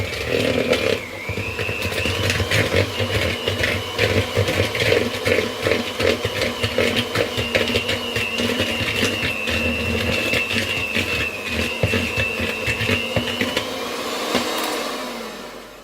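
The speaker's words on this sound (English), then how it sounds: "The beater is, or the mixer is not that quiet" An electric mixer beats butter and sugar, a loud, close, continuous whirring drone with a steady pitch, running alone for the full stretch before easing off at the end.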